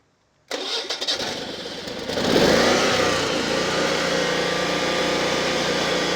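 A 15,000-watt Generac portable generator engine cranks a few times, then catches and settles into a loud, steady running roar.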